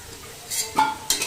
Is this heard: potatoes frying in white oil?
yes